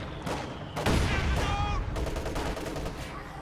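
Mortar fire in a real-time strategy game, loud and close: a burst of heavy booms and crackling impacts mixed with the rattle of other gunfire, layered over a continuous din of battle.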